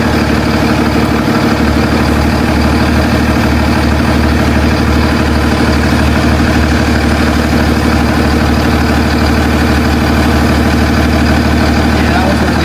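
A box truck's engine idles during a roadside inspection with a loud, constant low rumble and vibration, while people talk over it.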